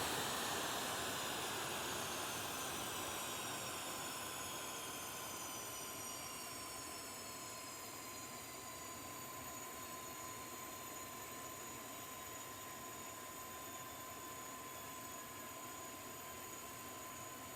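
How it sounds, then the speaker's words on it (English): The twin jet engines of a Challenger 650 in a flight simulator spool down, a dense whine and roar with tones sliding slowly downward as the engines wind toward shutdown, steady and loud with no talking. "Shut down engine."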